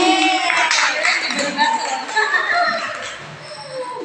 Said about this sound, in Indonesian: Beri tepuk tangan buat Bu Nopi.